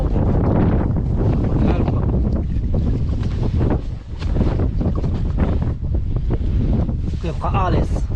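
Strong wind buffets the microphone continuously during a fishing outing at the sea, with boat and water sounds underneath and a voice briefly speaking.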